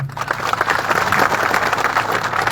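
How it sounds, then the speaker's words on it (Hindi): Audience applause at a Rawna Rajput community assembly in Shiv, a dense, steady wash of many hands clapping at close range that holds for the whole stretch with no speech over it. "तालियां बजाइए तो इनके लिए बताओ"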